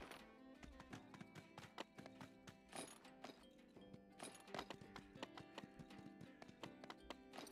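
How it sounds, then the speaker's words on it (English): Horse hooves clip-clopping in the video game My Time at Sandrock, a quick steady run of crisp hoofbeats with background game music, faint and without talk. "Come on, horse."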